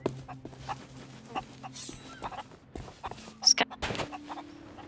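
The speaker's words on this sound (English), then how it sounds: "There's a whole bunch of chickens here, by the way." Chickens clucking in scattered short calls, fairly faint and close, mixed with other animal and game sounds while people talk over them.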